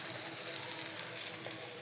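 A Maggi noodle and egg snack fries in a pan, a steady even sizzle of hot oil, close and moderately loud, with no talking.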